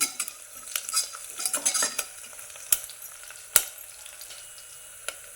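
Curry leaves and turmeric fry in a pan for a village-style rice khichdi, with a soft sizzle under busy stirring, scraping strokes and a few sharp clicks of the spoon, close by and without speech.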